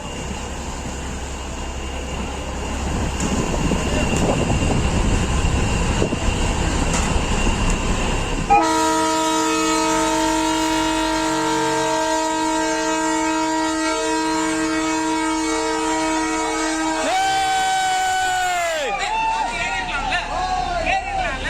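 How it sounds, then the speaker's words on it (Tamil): A train on a test run across the new Pamban bridge rumbles along with a crowd murmuring, then a loud, sustained horn blares for several seconds before bending down in pitch as it ends. "ரயில் சோதனை ஓட்டத்தை பணியாளர்கள் மற்றும் பொதுமக்கள் ஆரவாரத்துடன் கண்டுகளித்தனர்."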